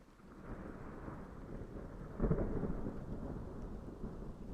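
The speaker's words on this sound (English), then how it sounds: "a storm outside" A thunderstorm rumbles outside, with a low roll of thunder swelling to a sharper crack midway, and a steady wash of rain underneath it all, heard from indoors at moderate distance.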